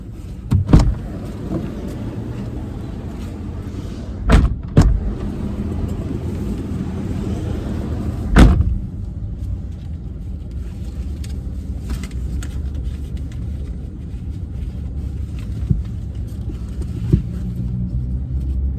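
A car at a petrol station in Malaysia: a steady engine rumble runs throughout, broken by several sharp door thumps and clunks near the start and middle, with no talk.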